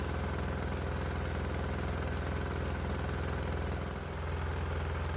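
A diesel engine runs steadily on an alternative test fuel mixture of vegetable oil, waste oil or ATF blended with diesel, a continuous close rumbling idle with knocking texture and a slight dip near the end.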